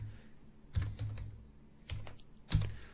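A few soft keystrokes on a computer keyboard, sparse and close, with low background hum.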